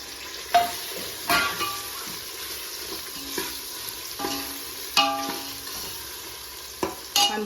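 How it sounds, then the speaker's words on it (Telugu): Four chopped tomatoes sizzle and fry in a pan with ginger-garlic paste for goat head and leg curry, steady close crackling broken by sharp stirring scrapes. "ఇప్పుడు ఒక 4 టమాటాలు ఇందులో వేస్తున్నా"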